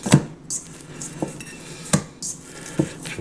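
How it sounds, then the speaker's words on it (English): A hamburger bun dough ball swished around in a pan with olive oil, producing several distinct clinks and knocks against the pan in an irregular rhythm, close and fairly loud. "swish it around in our pan to get it all nice and"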